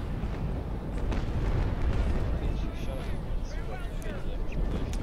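Cannons boom in a naval battle in the sailing-ship game Naval Action: a continuous deep rumble of gunfire and blasts rolls on throughout, while people talk over the din.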